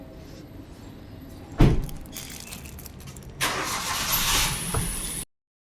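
A car engine cranks and catches after a door thud, the starter whirring before the motor settles into a loud, close running rumble, then the sound cuts off abruptly.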